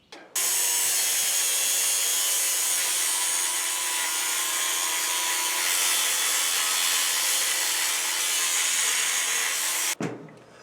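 Angle grinder cutting through a steel shipping cage around a 1750 lb Anyang power hammer, one loud continuous harsh screech that holds steady for about ten seconds and then stops abruptly.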